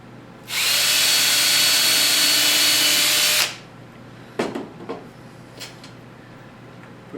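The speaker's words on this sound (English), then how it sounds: "put a couple screws in it." Power drill driving screws into a wooden table saw jig, a loud steady whir lasting about three seconds, followed by a few light knocks and taps of handling.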